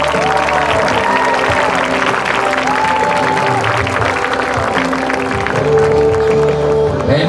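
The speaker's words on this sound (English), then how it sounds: "let's give each of these members of the court one more round of applause" Large crowd applauding at a high school football homecoming ceremony, steady dense clapping and cheering filling the stands, loud and continuous with some voices mixed in.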